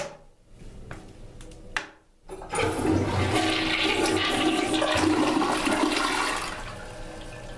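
An American Standard toilet flushes in the half bath of a Sheraton Boston hotel executive suite, a few faint knocks before a loud, close rushing swirl of water that runs steadily for several seconds before easing off.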